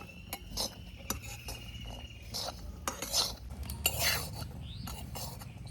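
Mahua flowers dry-fried in a hot wok, with a spatula scraping and clinking against the metal in irregular strokes over a faint sizzle, close up, with no talk.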